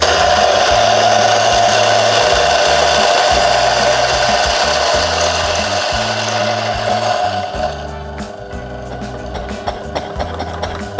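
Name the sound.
Ceado Life X coffee grinder grinding beans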